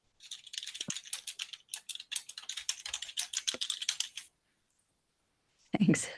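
Rapid, close clatter of typing on a computer keyboard, a dense run of key clicks lasting about four seconds, a short pause, then a brief final burst of keystrokes.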